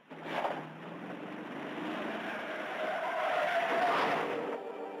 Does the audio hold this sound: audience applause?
no